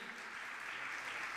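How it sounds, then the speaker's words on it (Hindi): Steady applause from an audience gathered for a religious discourse, honouring a guest devoted to cow service, broad and continuous across the moment without a break. "मैं चाहूँगा सबसे पहले जोरदार तालियों से उनका सम्मान करें"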